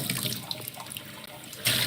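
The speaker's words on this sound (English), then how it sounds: "I have a wonderful tap that is with cold water and hot water" Water runs from a hot-and-cold tap into a sink, a close splashing trickle with small bright spatters that surges louder near the end, with no talk over it.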